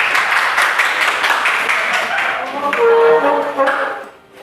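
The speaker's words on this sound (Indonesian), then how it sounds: "Beri tepuk tangan kepada yang pemenang terakhir." Classroom applause rings out for the final winner of a game during a teaching practice session, a burst of many hands clapping that thins toward the end, mixed with voices and a brief tonal sound.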